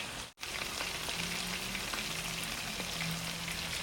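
Chicken frying with garlic in a hot pan sizzles steadily and softly, a continuous crackling hiss after a brief dropout at the start, with no talking.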